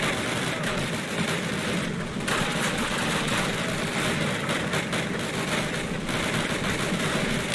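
Sustained machine gun fire in the World War II shooter Call of Duty, a dense continuous clatter of rapid shots at full loudness with scarcely a pause throughout.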